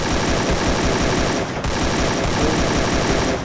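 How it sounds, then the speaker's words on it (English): Heavy, continuous gunfire in the battle royale game Free Fire, a loud dense wash of overlapping automatic shots with only a brief dip partway through. "Everyone trying to fire,"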